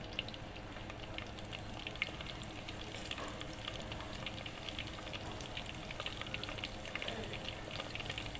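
Cumin and long-slit green chillies fry in oil in a pan, producing a continuous, fairly faint crackling sizzle with a rain-like patter and occasional light stirring.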